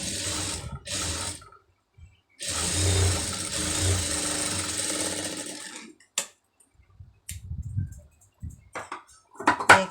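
A sewing machine stitches a folded fabric hook strip in two short runs and then a sustained run of several seconds. Scattered clicks and handling sounds follow once the machine stops.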